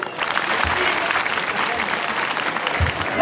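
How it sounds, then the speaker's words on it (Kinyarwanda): Audience applause at a live singing performance, a dense steady clapping that fills the whole stretch at close range, with no voices over it. "amashyi menshi"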